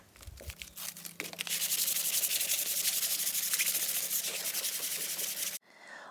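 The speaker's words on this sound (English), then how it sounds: "a light sanding with 180 sandpaper rolled over just a little piece of wood" 180-grit sandpaper wrapped around a small wood block scrapes back and forth over a pine picnic table in a steady rasping rub, close and continuous for several seconds before stopping.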